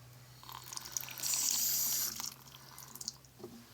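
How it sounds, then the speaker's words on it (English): Tap water gushes into a sink for about a second after a brief turn-on, then trickles and drips faintly, close by with no talking. "And if you heard that, I was just turning on the water."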